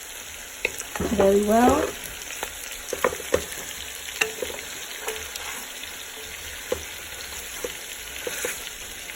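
Chicken pieces fry in a pot for a Jamaican-style curry, a soft continuous sizzle broken by occasional clinks and scrapes of stirring, with a brief spoken voice.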